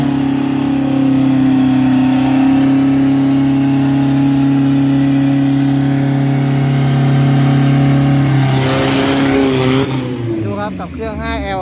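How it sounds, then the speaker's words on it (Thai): A naturally aspirated 5-litre drag racing engine with no turbo runs at a loud, steady high drone, then surges and fades as the car pulls away at Bangkok Drag Avenue, with talking over it. "ดูครับกับเครื่อง 5L ครับ NA ครับไม่มีเทอร์โบครับ"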